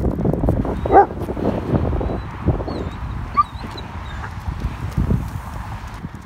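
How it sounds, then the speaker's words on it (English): A stray dog barks a few times outdoors in a park on a warm Christmas day, short yelps near the start and middle over wind and footstep noise. "Here is a stray dog."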